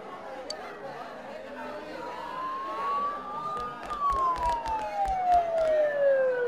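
Wailing emergency sirens close by in the foggy town of the game Persona 4 Golden, a rising then falling tone that swells over background chatter and clicking, with people talking.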